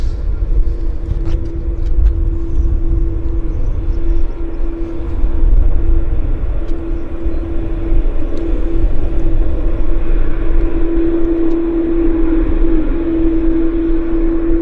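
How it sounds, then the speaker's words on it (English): An aircraft approaches Vancouver airport, a steady loud engine roar with a sustained tonal hum holding throughout and no talk. "got another aircraft on approach as well"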